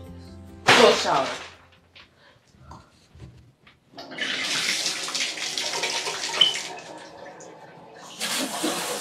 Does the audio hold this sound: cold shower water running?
yes